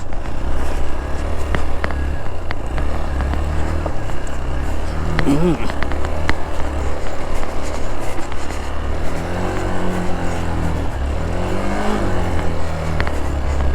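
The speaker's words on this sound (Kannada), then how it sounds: "ಗಾಡಿ ಇಂಜಿನ್ ಸ್ಟ್ರೆಸ್ ಬಂದಂಗೆ ಆಗುತ್ತೆ" Off-road motorcycle engine labouring up a rough trail at Mandalpatti in Coorg, a steady loud drone with wind buzz throughout and brief rising strain, with a voice speaking faintly underneath.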